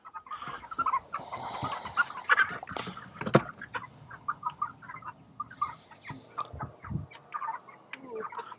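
Chickens on a farm making clucking and fowl calls while being handled and weighed, with irregular squawks and rustling close by, loud and busy throughout.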